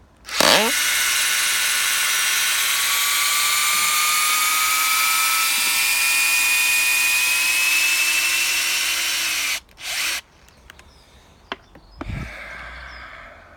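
A Fein ASCD18-200W4 impact driver backs an old screw out of a piece of wood with a loud, sustained high-pitched whine and hammering buzz for about nine seconds, then stops abruptly, followed by a few short clicks and knocks.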